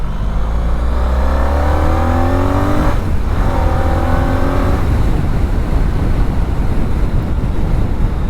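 A 2013 Honda Pan European 1300 motorcycle accelerating harder, with engine tones rising in pitch under heavy steady wind rush from riding at speed.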